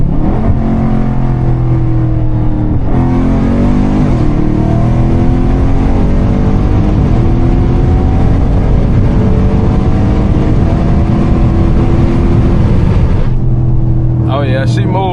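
Tuned catless Dodge 392 Scat Pack V8 accelerating hard, a very loud rising engine roar climbing through the gears with sweeping shifts, close and overwhelming, with someone speaking over it.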